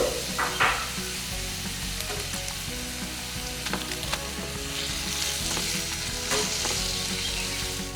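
Crab masala with fried coconut paste and sliced tomato sizzles steadily as it is stirred in a hot pan, with a continuous close frying hiss and occasional scraping clinks from the spoon.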